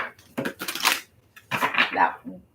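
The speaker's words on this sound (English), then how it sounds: "All right, last shuffle." A tarot card deck being shuffled in quick rustling, riffling bursts, two clusters separated by a short pause, fairly close and fairly quiet.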